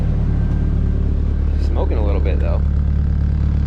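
A drift car's engine idles steadily after being started following a couple of weeks of sitting, with smoky exhaust; the deep, even rumble runs throughout while someone speaks briefly over it.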